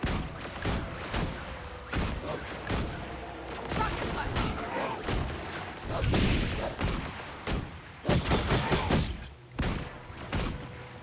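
In the fantasy video game Guild Wars 2, a rocket punch attack lands among a run of punchy combat impacts and whooshing blasts, loud and close, repeating irregularly through a fight with no talk.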